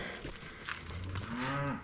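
A gentle farm cow with a vaginal prolapse gives a low, drawn-out moo close by, rising into a sustained lowing call over faint outdoor background noise.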